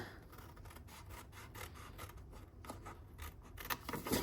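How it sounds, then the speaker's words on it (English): Scissors cut paper for a treat box, giving a close, faint, repeated series of short snipping and rubbing strokes with a few louder cuts near the end. "cut all the way to the second score line, but only cut off the outside one."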